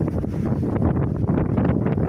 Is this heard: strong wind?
yes